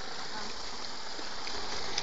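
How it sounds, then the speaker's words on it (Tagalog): Water in a stream flows in a steady, close, broadband rush, continuous and even throughout with no voices over it. "Oh, tubig, mas maraming tubig."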